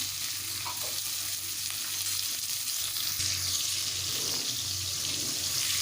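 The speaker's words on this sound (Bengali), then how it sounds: "পটলগুলোকে ভেজে নিচ্ছি" Steady, loud sizzling of pointed gourd frying in hot oil, a continuous crackling hiss with occasional stirring, no voices.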